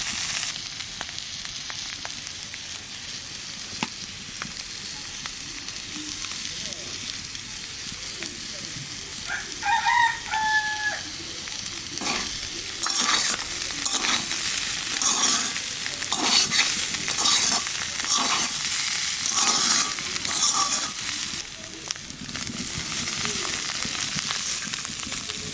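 Bitter gourd and potato pieces fry in ghee in a pan, giving a steady close sizzle with stirring scrapes. The frying grows louder in the second half, and a rooster crows briefly in the background.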